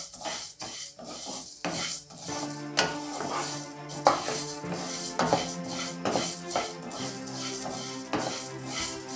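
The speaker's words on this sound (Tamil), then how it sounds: "நல்லா வாசனை வர அளவுக்கு வறுத்துக்க வேண்டியது தாங்க" A spoon scraping and knocking in a pan as pirandai is dry-roasted, steady repeated metallic scrapes and taps, close and continuous with no talk.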